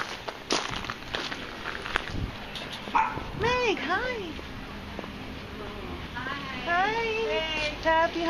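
Dog yips and whimpers in rising, wavering cries during a soldier's homecoming surprise, with footsteps and people talking around it, fairly close.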